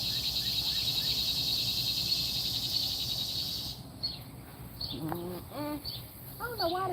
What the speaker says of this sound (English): Look at them cicadas.